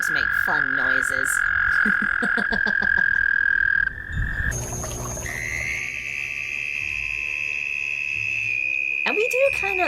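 A sustained, bright warbling tone is broken by short pulsed croaks and chirps, then a lower noisy rumble before the high tone resumes and ends with rising and falling whoops; the sequence sounds like frog calls mixed with electronic effects.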